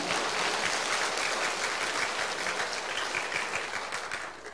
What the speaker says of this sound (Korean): 일단 이순신 장군 위에서 박수 좀 쳐.